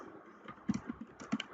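Keys clack on a computer keyboard while a post title is typed into a WordPress site, with a few soft, uneven taps spaced out over a short moment, close and fairly quiet.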